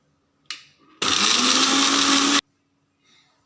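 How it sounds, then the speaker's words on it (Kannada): A mixer grinder whirs loudly for just over a second while grinding coconut with sambar leaves, starting and stopping abruptly, with brief handling noises before and after. "ಸ್ವಲ್ಪ ಬೀಸ್ಕೊತಾ ಇದ್ದೇನೆ."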